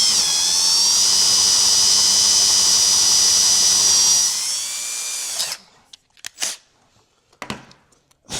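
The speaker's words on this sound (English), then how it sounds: "I need to drill that one a little more" A drill bores out a bulkhead fitting on a Husqvarna K971 cut-off saw, a loud, steady high-pitched whine for about four seconds that winds down and stops, followed by a few short clicks and handling noises.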